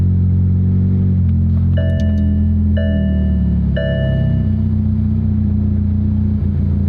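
A McLaren 720GTR Carbon, damaged in transport, idles with a loud, low, uneven engine drone that runs steadily throughout, while a few short electronic chimes sound over it.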